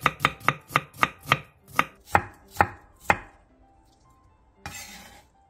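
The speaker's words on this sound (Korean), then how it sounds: "당근 조금을 잘게 다져주고 양파 4분의 1개는 얇게 채 썰어주세요" A knife chops a small amount of carrot finely and slices a quarter onion thinly on a cutting board, giving about nine sharp, evenly spaced knocks that slow and fade, a pause, then a short scraping rustle.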